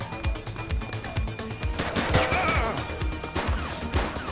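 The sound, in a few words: gunfire in a video game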